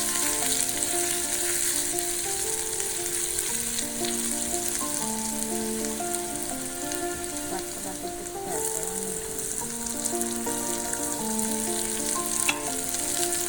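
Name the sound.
onions frying in a pan for Nepali soup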